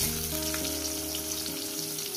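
Onions fry in oil with bay leaf and sugar for a chicken curry, a continuous dense, even sizzle close by, accompanied by steady background tones.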